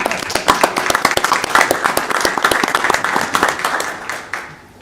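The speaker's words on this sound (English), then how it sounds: "let's give everybody a round of applause for that." A meeting audience gives a steady round of applause, many distinct hand claps close together at a fairly loud level that die away at the very end.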